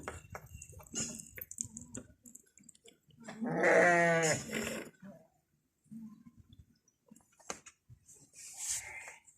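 A goat bleats loudly and close by in one long, wavering cry, with shorter bleats and scattered rustling around it in a quiet farmyard.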